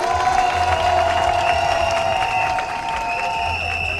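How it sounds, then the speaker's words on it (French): Crowd applause and cheering at a political homecoming welcome, a loud sustained wash of clapping mixed with shouts, with a low hum underneath and a slight drop in level partway through. "il faut l'applaudir très fort"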